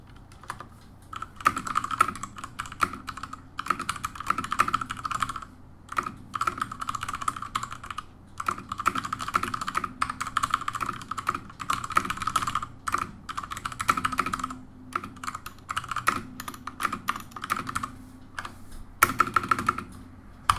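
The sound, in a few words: typing on a mechanical keyboard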